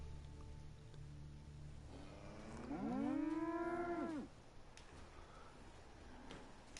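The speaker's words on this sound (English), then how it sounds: "Okay, I just heard a bunch of cows." A single drawn-out cow moo in the video game Fallout 4, fairly near and clear over quiet outdoor ambience.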